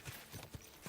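Horse hooves clip-clop in the Kingdom Come Deliverance II video game: a few steady, evenly spaced thudding footfalls over about a second, moderately close, with no talking.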